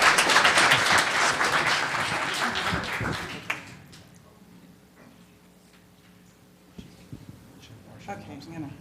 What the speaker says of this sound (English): How about a big round of applause for Ms.